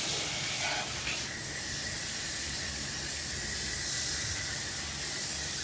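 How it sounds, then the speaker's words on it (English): A steady, hissing spray of water from a hose nozzle at decent pressure cleaning an outdoor AC unit, constant and fairly loud from start to finish with no voices. "We're gonna turn on our sprayer. You want some decent pressure."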